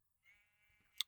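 A single sheep in Minecraft's Agrarian Skies 2 modpack lets out a short, faint bleat, followed by a brief sharp click, with nothing else heard.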